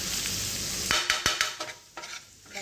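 Prawns and capsicum frying on a hot tava with a steady sizzle, then several sharp clinks and scrapes of a spatula stirring against the pan, close and fairly loud.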